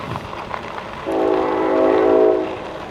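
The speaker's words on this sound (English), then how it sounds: "I don't get to hear many trains, so it's kind of neat." A train rumbles past a rail-trail bridge with a steady low roar, then a sustained horn sounds for a couple of seconds before fading.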